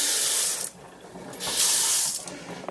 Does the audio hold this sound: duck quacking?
no